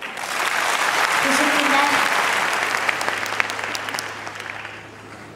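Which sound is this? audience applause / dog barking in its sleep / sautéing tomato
audience applause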